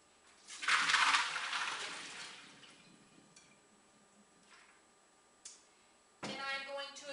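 Starchy water drains from soaked yuca in a brief hissing pour that swells and then tapers off into faint trickles and drips, followed by a short clunk and a voice speaking close by.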